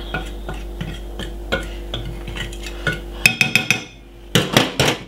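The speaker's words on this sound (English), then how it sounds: "use a fork and use it to sieve up the flour together with the season" A fork scrapes and stirs flour with seasoning in a bowl for French fried shrimp, giving steady light clinking taps that turn into a quicker burst near the end, over a low steady hum with no talking.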